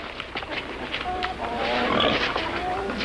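A pig on a farm grunts and snuffles nearby in a rapid, rough series of short oinks, fairly faint against background noise.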